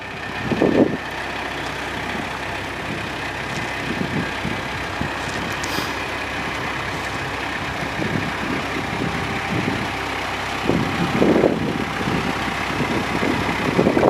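A 2013 Palfinger GT55 piggyback forklift with a Kubota diesel engine and hydrostatic drive runs at a steady idle nearby. A continuous mechanical drone carries faint clunks and movement noises throughout.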